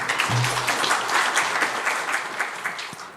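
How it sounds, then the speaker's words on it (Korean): A church congregation at a Friday prayer meeting claps to welcome a missionary to the front, a continuous burst of many hands at moderate distance that stays full for the brief moment. "우리 조길순 선교사님 나오실 때 박수로 또 환영해 주시면 감사하겠습니다"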